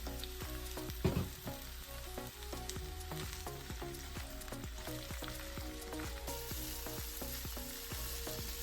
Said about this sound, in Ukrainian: На розігріту сковорідку вливаємо олію, висипаємо баклажани, кабачок і моркву. Смажимо 5-7 хвилин.